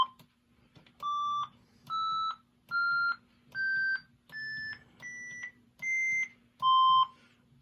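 Gottlieb System 3 pinball machine running its sound test, giving eight clear electronic beeps in an even sequence, each tone held about half a second with the pitch stepping upward before a final lower beep, heard alone over a faint steady hum.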